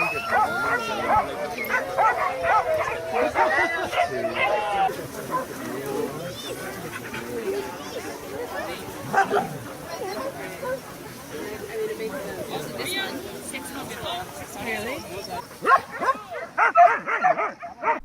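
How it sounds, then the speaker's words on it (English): Many dogs at a large dog shelter in Costa Rica bark, yip and whimper over one another in a continuous chorus, loud and close, with someone talking over the din. "There's over 600 dogs here that visitors and volunteers can play with."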